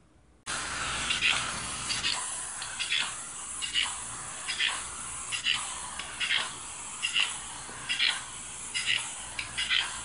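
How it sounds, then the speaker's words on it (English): Aerosol window-frosting spray can applied to window glass in a uniform coat: a series of short repeated hissing bursts in a steady rhythm, fairly close and moderately loud over a constant background hiss. "You want to go ahead and shake the frosting can, spray can, again, and you want to just give it a uniform coat."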